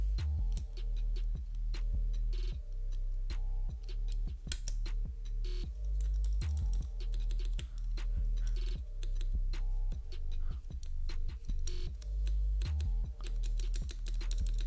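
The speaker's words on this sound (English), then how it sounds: "Hope y'all enjoy the rattly spacebar." Steady typing on an ET60 mechanical keyboard with switches and backing layer left on, the spacebar rattling: dense, quick clacks and ticks in a continuous close rhythm, with no voices.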